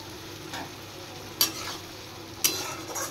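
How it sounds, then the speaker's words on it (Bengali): Tomato with salt, turmeric and chilli powder frying in a pan, a soft continuous sizzle broken by a few sharp spatula scrapes as it is stirred, close and alone. "এবার মশলাটা একটু ভালো করে ফ্রাই করে নেব।"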